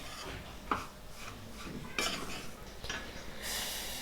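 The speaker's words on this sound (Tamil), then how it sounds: "எல்லா மாவோடு சேர்த்து கலந்து விட்டுடலாம்." Rava laddu mixture of semolina, cashews and raisins being stirred in a pan, with close scraping strokes and sharp clinks of a utensil against the metal at irregular intervals, no talking.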